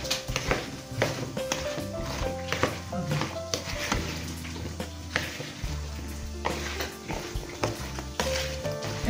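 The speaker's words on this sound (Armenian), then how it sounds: "ձեռնոցներ տնենք ու ձեռնոցի օգնությամբ էլ խառնենք" A salad is tossed by gloved hand in a bowl, making close, irregular rustling, squelching and soft tapping sounds with no talk.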